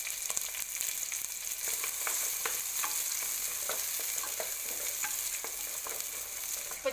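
Chopped big onions and small shallots sauté in hot oil in a kadai for chicken curry. A steady bright sizzle runs throughout, with scattered clicks and scrapes from stirring, close and fairly even, and no voices.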